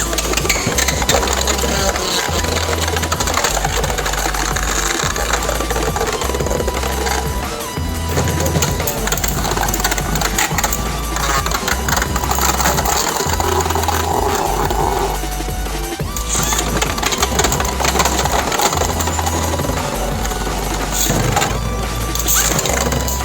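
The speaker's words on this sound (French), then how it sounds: "tester le système final avec le moteur 3200 kV et la batterie 4S à 16 volts" A homemade Beyblade launcher driven by a 3200 kV motor on a 4S 16-volt battery whirs loudly and continuously, its buzzing motor tone pulsing and rattling with a few short dips.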